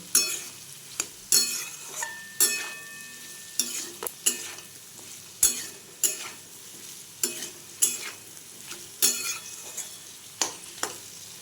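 Vegetables for a vegetarian masala dalia are stirred and fried in a pan without salt, giving repeated sharp scraping strokes of the spoon at an uneven rhythm over a quieter continuous sizzle, close up, with no talking.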